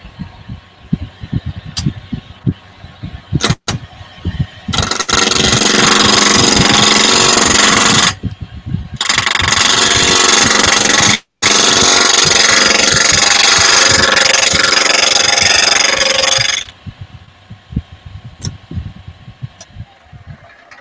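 A wood lathe spins an old red gum post, with loud, dense bursts of turning noise separated by short pauses and sharp clicks, all close to the microphone and with no talking.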